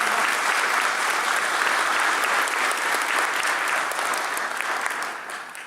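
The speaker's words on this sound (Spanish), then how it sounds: "Un aplauso a la palabra de Dios" A church congregation breaks into sustained, dense applause during a sermon, a steady wash of clapping hands that holds strong throughout and tapers slightly toward the end.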